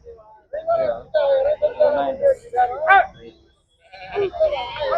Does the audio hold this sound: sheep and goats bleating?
yes